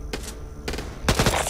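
Automatic assault rifle fire in the zombie shooter Back 4 Blood, loud and close, coming in three dense bursts of rapid shots with a short pause between each.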